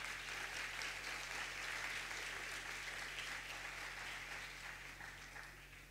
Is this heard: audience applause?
yes